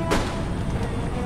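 Artillery fires in the video game Empire: Total War, a sharp boom at the start trailing into a dense rumbling roar of battle, loud and continuous.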